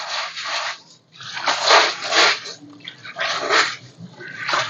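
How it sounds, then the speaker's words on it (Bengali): Cinders being washed by hand in water to rinse out coal dust: sloshing, rough gritty splashes in irregular bursts with brief pauses between them, close by and with no talking. "সিন্ডারগুলোকে ভালোভাবে ধুয়ে নিচ্ছি আমি"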